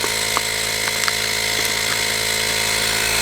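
A drill bit bores into and enlarges a hole, producing a continuous, even mechanical whine with a steady hum underneath and faint small ticks, close and alone.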